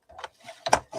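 Blue paper being cut into a thin strip for a chipboard album: a few short, close, crisp snips and scrapes in quick succession, with quiet gaps between them.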